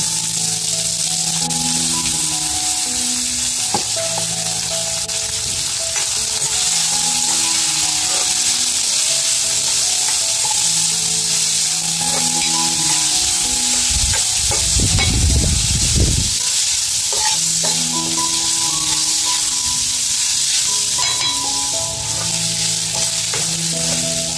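Chopped onion fries in a pan with curry leaves, giving a loud, dense, steady sizzle that lasts throughout, with a brief stirring rumble midway and a tonal background melody underneath.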